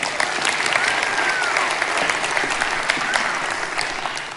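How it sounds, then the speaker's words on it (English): A TEDx audience applauds a volunteer named Marina on stage during a body-language talk: a dense, steady wash of many hands clapping, fairly loud and sustained throughout with no voices over it. "Give her a round of applause."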